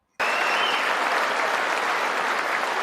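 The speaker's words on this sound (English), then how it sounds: "Notice people are standing up and clapping based on what he's saying" A standing audience applauds a speech, a dense, loud wall of clapping that begins abruptly and holds evenly throughout, with no voices above it.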